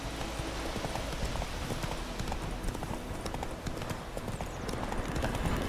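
Roach the horse gallops in the video game The Witcher 3, with rapid hoofbeats pounding close and steady under a broad wash of noise, and no one talks.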